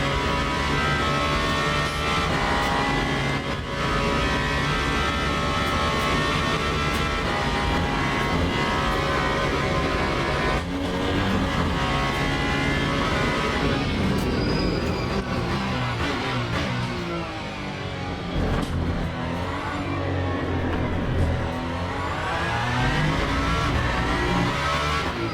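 A race car in a racing video game runs continuously, engine roaring steadily as it brakes and downshifts into a chicane, with the pitch dipping and rising again around the midpoint and no talking.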